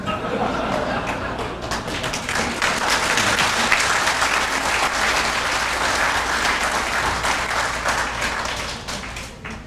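Audience applause at a Korean lecture on Korea–US relations: steady, dense clapping from a sizable crowd filling nearly ten seconds at even loudness, with faint voices beneath.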